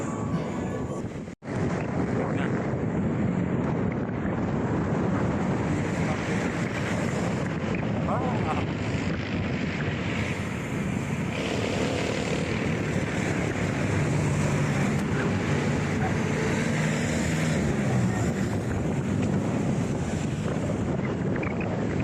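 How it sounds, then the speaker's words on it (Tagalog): Strong, cold wind in Tagaytay roars and buffets against the microphone continuously, a dense rumbling rush that barely varies, with possible muffled voices buried underneath. "sobrang lakas ng hangin"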